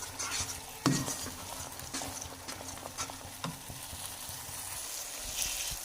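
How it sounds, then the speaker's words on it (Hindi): Egg halwa mixture stirred and fried in oil, a soft continuous sizzle broken by scraping spoon strokes and a sharp clack against the pan, close and without talk. "ये खुद ब खुद भी जब अच्छे से भून जाएगा तो ऑयल छोड़ देगा। तो इसे लगेंगे 3 से 4 मिनट अच्छे से भूनने में।"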